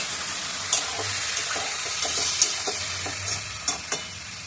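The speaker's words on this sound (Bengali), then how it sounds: "আলুটা ভাজা হয়ে গেছে, চিনি দিয়ে সেটা ডেলি করে দিই, একটু ভালো করে কষিয়ে নিই" Fried potatoes being sautéed with sugar in a pan, a steady sizzle with scattered scraping and stirring clicks from a utensil, close and fairly loud.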